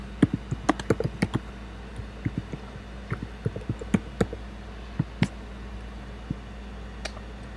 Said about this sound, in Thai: ภาษาที่เราถนัดที่สุดคือภาษาอังกฤษ ดังนั้นเราเลยพิมพ์ภาษาอังกฤษ